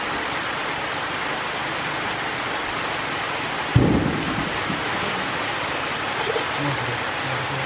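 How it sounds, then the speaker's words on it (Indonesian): Heavy rain pours steadily over rice fields, a dense, loud, constant hiss with one low thud partway through and no voices. "Hujannya deras sekali."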